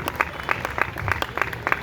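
An audience claps at a live stage event, a short run of distinct rhythmic handclaps at a brisk, even pace, fairly close, with crowd murmur underneath.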